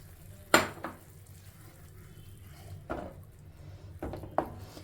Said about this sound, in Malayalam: നമ്മൾ എടുത്തു വച്ചിരിക്കുന്ന കട്ടത്തൈര് ഈ വെജിറ്റബിളിലോട്ട് നമുക്ക് ഒഴിച്ചു കൊടുക്കാം